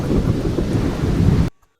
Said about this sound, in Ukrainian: це гроза і блискавка